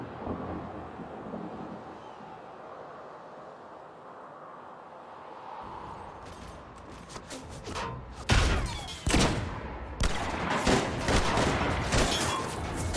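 Sci-fi gunfire in Mass Effect 3 during a snowy firefight against Cerberus troops: a run of loud, sharp shots and bursts starting partway through, building from a quieter rumbling background into dense, repeated volleys toward the end.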